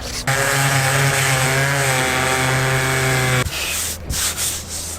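Power sander working on car paint during a budget home respray of a Reliant, a loud steady whine with strong harmonic tones that cuts off near the end, leaving quieter rubbing and handling noises.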